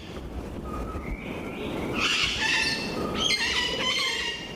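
Puerto Rican parrot giving harsh squawks and squeals, several overlapping calls in the middle and toward the end, fairly close over a steady breezy background.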